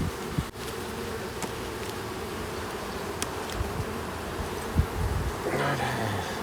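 Honey bees buzz around a weaker swarm's hive on a hillside apiary in late February, a dense steady hum with a few sharp taps and rustles, and no talk.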